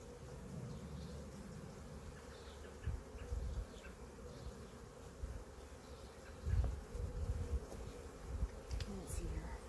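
Honey bees buzz steadily at a hive frame where comb is being built, a dense low hum that is close and continuous with faint swells, and a quiet voice is heard briefly.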